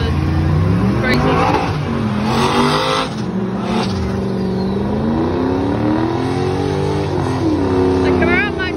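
A Chevrolet Camaro's engine revs and roars loudly and continuously, with the pitch rising and falling through repeated accelerations, while people talk excitedly over it.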